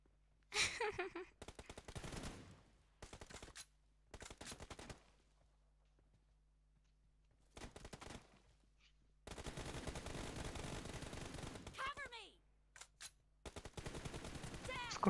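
Bursts of automatic gunfire from the mobile battle royale game PUBG Mobile, coming in separated volleys with a long sustained stretch of rapid shots near the end, loud and close with no talk over it.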